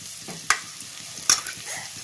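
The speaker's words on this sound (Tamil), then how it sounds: "இது பச்சை வாசனை போகிற அளவுக்கு வதக்கலாம்" Ginger garlic paste and onions sautéing in a pan for crab pepper masala, giving a soft continuous sizzle broken by two sharp spatula strikes against the pan.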